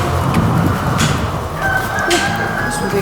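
Chickens cluck inside a poultry house, with scattered clucks and calls over a steady background hum.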